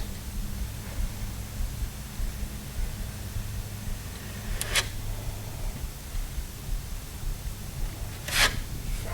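A tool smooths body filler over a dent in a metal door, giving a soft rubbing hiss with two brief, sharper scraping strokes standing out over a steady low background.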